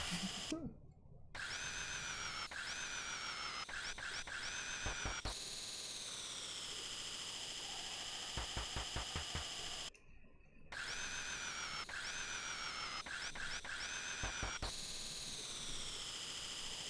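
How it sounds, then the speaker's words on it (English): Electronic drilling-machine effect from the SNES game EarthBound, a loud sustained buzzing whir with pitch-shifting tones, cutting out briefly twice, with rapid clicking bursts over steady game music. "Why is it drilling?"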